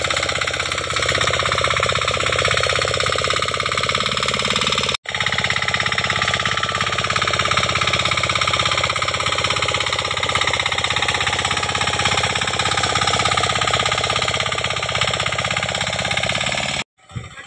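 A tractor engine running in a field during a rainy planting day, a steady loud droning rumble with a constant mechanical whine, unbroken except for a brief cut near the end.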